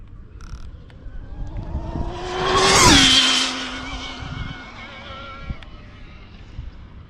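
Racing video game with an RC car at high speed: a rising engine whine swells to a loud peak with tire squeal and skidding around the midpoint, then settles back to a steady hum.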